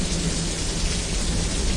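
Steady rain pours and low thunder rumbles outside an RV during a tornado watch, a dense, continuous wash of noise with no talking.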